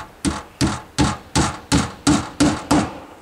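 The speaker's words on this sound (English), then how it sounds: "Put a nail here to keep it straight," Hammer driving a nail into wooden shed trim: eight sharp, evenly spaced strikes about every 0.35 seconds, close and loud, with no talking.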